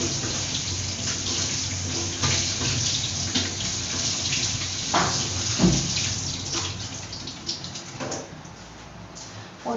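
Tap water runs steadily into a kitchen sink while vegetables are rinsed for dinner, with a continuous close splashing rush and brief louder surges as the produce is moved under the stream.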